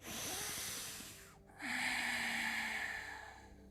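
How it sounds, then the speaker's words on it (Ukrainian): A long, deep breath drawn in during a yoga session, steady and airy with a brief pause midway, then a fuller rushing inhale close to the mic. "Заключний глибокий вдих"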